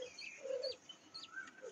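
Pet quail birds calling from a cage, with short, faint chirps and whistled notes scattered in quick succession, close by with a quiet background.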